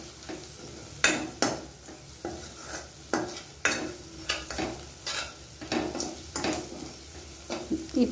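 Chili powder fries in a pan with a light sizzle, broken by a series of sharp scraping stirs of a spoon against the pan, roughly one every half second to second.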